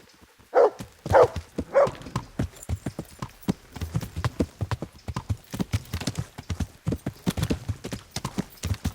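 Horse hooves clip-clop steadily in the medieval video game Kingdom Come: Deliverance, a close, rhythmic stream of hoof strikes, with a few dog barks near the start.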